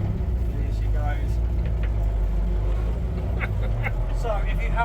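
An Austin A30 car on a private estate pulls away, its engine a steady low rumble held at close range throughout, with faint higher noises over the top.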